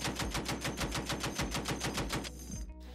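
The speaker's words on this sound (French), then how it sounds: "les coups de feu" Rapid gunfire in a fast automatic burst, a dense run of sharp, evenly spaced loud shots lasting over two seconds before cutting off abruptly, with no talk.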